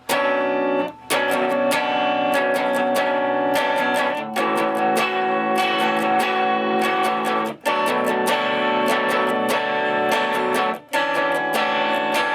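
Heavy distorted electric guitar power chords played in a driving, repeated pattern, with a few short pauses between phrases.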